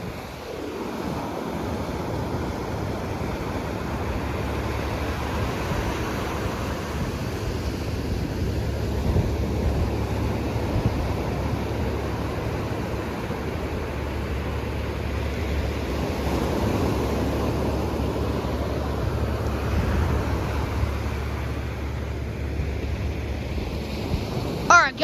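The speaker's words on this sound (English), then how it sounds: "You can see the waves too, you can see it." Ocean surf at high tide at Avon-by-the-Sea rolls and crashes in a steady, loud roar, with waves rising and falling and wind buffeting the microphone throughout.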